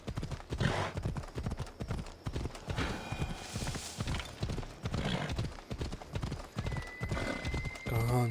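A horse gallops with a steady drumming of hooves and lets out a whinny near the end, in the game Assassin's Creed Odyssey; the hoofbeats stay close and loud throughout.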